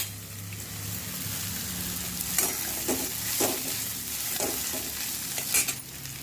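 Poha flakes tossed and stirred in a pan for kande pohe, with scraping strokes and soft sizzling over a steady frying hiss, no voices.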